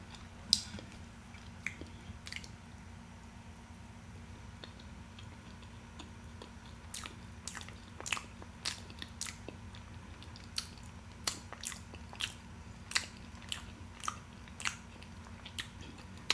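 Crisp bites and soft chewing of a Patti pie with a buttery nutmeg crust, close to the mic at quiet volume, with a steady run of small clicks and ticks and no talking.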